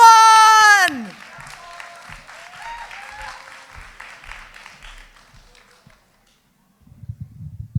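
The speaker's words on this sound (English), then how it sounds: "Applaud the poet. Give it up for the poet, not the score. And keep that going." An audience at a grade 11/12 spoken word poetry event applauds a poet after a loud, falling electronic tone. Steady clapping and crowd murmur follow and fade into silence, then a few soft taps come in at the end.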